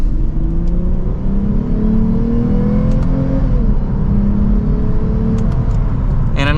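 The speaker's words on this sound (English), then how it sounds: "And a nice mild acceleration." A 2024 Lexus IS350 F Sport accelerates in second gear in Sport S+ mode, heard from inside the cabin. The engine note is loud and steady and climbs smoothly in pitch, with no talking.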